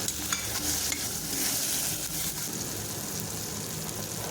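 Medium tomatoes with a little salt sautéing in a pot for one-pot vegetable biryani, a soft continuous sizzle with scraping stir sounds near the start, fairly quiet and without speech.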